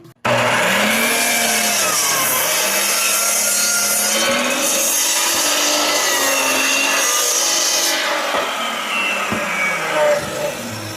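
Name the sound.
sanding hardwood countertop with sandpaper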